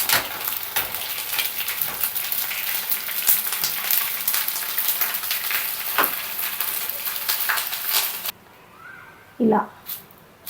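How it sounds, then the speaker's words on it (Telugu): Sago pearls frying in hot oil for a puffed rice mixture, a dense steady crackling sizzle with scattered pops that cuts out near the end, leaving a brief clatter and quiet. "సగ్గుబియ్యం ఇలా పాప్కార్న్ లాగా ఇలా వేగిపోతాయి"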